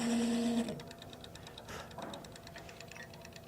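A lathe cuts a hole in an acrylic box, giving a quiet, fast ticking mechanical whir after a brief louder tone at the start, with no talking.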